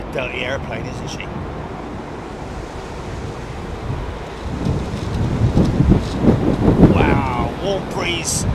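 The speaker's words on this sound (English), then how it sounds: "I'd imagine that the microphone is picking that up, that blast of air that I just got from those General Electrics" A steady roar of jet blast from General Electric airliner engines buffets the microphone at Heathrow Airport, swelling louder midway with rumbling gusts, while faint voices come and go underneath.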